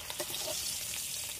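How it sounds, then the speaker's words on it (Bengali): Kakrol (spine gourd) fries in oil in a pan with a continuous close sizzle and a few soft stirring scrapes near the start. "কাঁকরোলটা আমার ভাজা ভালোভাবে হয়ে গেছে,"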